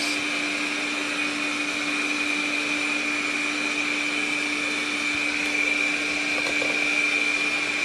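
A Coredy L900X robotic vacuum cleaner runs steadily with a constant whirring motor hum and a high whine, loud and unchanging, with faint clicks near the end.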